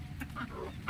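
A rooster clucks a few short times in a quiet outdoor village lane near a closed tea stall, the calls fairly close over faint background ambience.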